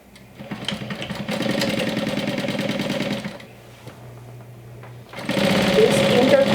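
Sewing machine stitching interfaced lining for a fabric wine bottle bag, a fast rhythmic mechanical chatter in two runs separated by a short pause, close and fairly loud.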